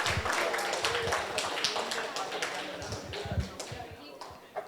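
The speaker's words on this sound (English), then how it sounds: "Give yourselves a big round of applause." A small group in a competition session claps for themselves, scattered uneven hand claps close by with irregular bursts, fairly light rather than a full roar.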